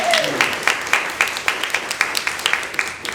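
Audience at a book event for an Indigenous-led literary space applauding, a fairly close burst of rhythmic clapping that settles into a steady patter and fades slightly toward the end.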